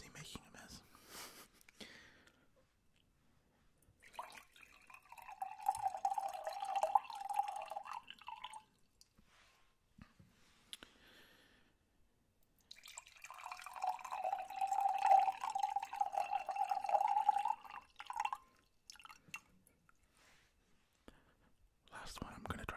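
Water poured slowly so that it drips and spills, in two wet bursts of splashing and trickling separated by quiet stretches, recorded close up and at low level with faint whispering in between.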